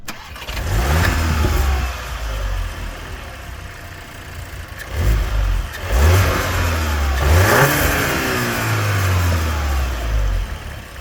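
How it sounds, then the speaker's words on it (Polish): A VW Golf R 8.5 2.0 TSI four-cylinder petrol engine runs close by, idling and then revving up in several rising pushes before settling back. "Dwulitrowy silnik pracuje jak każda inna czterocylindrowa benzynowa jednostka"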